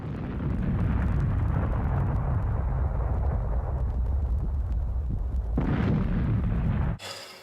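A large on-screen explosion of Rotor, the giant robot in the film Rotor, a loud sustained roaring blast with heavy low rumble lasting several seconds before cutting off abruptly.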